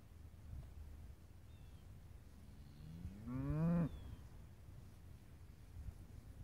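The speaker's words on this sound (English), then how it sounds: "we're going to move the cattle from one paddock to another today" Cattle being moved between paddocks outdoors: a single drawn-out moo rises midway, fairly distant over steady wind and low background rumble.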